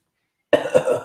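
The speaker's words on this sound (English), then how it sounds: "Stay at home, elbow cough." A single sharp cough into an elbow, close and abrupt, followed by a short rough tail, with no talking.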